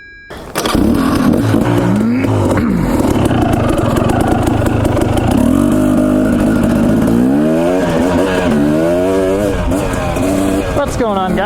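A dirt bike engine starts up and revs repeatedly, its pitch sweeping up and down, loud and close, with some talking underneath.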